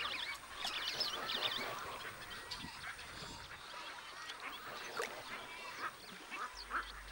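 A busy flock of ducks quacks and chatters continuously in the distance in Venezuelan wetlands, mixed with calls of scarlet ibis, spoonbills, egrets and wood storks, fairly faint.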